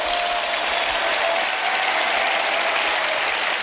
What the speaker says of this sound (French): Rebecca, ça mérite bien un petit applaudissement pour vous